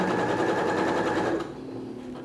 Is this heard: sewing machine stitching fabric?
yes